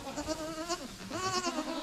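Young goats in a large goat shed bleat close by, several overlapping wavering calls running almost continuously, with no talk.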